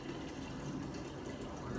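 Strained tea being poured for homemade kombucha, a steady liquid pour running continuously and fairly close.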